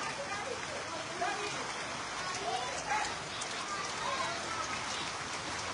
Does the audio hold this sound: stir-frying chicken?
no